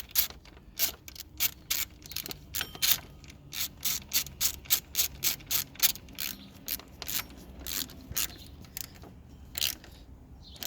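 Ratchet wrench tightening bolts while an alternator is replaced on a 2004 Honda Accord LX, with a long run of quick, close, rhythmic clicking bursts and no talk.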